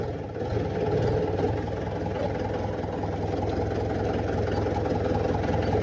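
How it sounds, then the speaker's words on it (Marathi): A farm tractor turning on the way to fetch maize runs with a steady, throbbing mid-to-low engine drone, close and constant throughout without speech. "ट्रॅक्टर वळवतोय आता."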